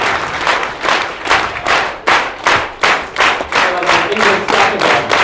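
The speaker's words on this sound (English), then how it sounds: "Clap with me" Crowd at a live city talk clapping along in unison, a series of about a dozen sharp, evenly spaced group claps in a steady rhythm, loud and close, with no speech over them.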